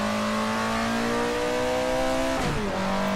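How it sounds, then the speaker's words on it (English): A simulated race car in the Assetto Corsa game drones steadily, then gives a quick downshift blip of the engine during heel-and-toe braking, near and loud with no voices. "Those engine blips sound awesome."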